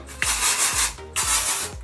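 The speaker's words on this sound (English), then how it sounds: "And I spray like right into the roots." Hair product sprayed straight into the hair roots, heard as two loud, close hissing bursts of aerosol spray, each lasting about a second and separated by a short pause.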